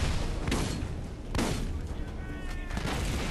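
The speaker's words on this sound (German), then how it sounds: "Dann fliegt auch noch meine Granate irgendwie verquer da rein und die Katastrophe ist perfekt." Grenade explosion and gunfire in the video game Borderlands, with sharp booming bursts near the start and middle over continuous combat noise and rattling shots, loud and close.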